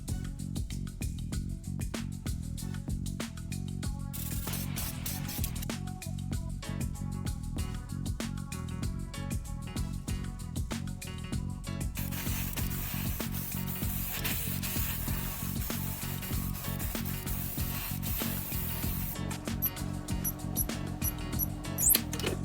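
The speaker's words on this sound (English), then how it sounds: "the master chooses the cash gold color and prepares to spray paint the car body" A toy Bugatti car body being spray painted gold during a restoration, with steady hissing spray bursts of varying length over continuous background music, no voices.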